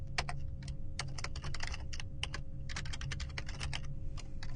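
Code is typed on a computer keyboard in rapid clustered bursts of key clicks with short pauses, close-miked over a constant low hum, with no speech.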